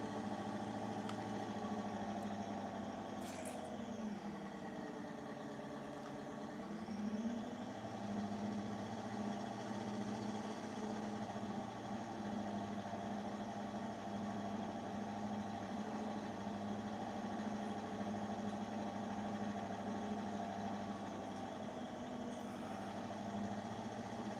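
Big tractor engine in Farming Simulator 2019, a steady mid-pitched idling drone with a faint whine that dips and rises briefly, running alone without talk throughout.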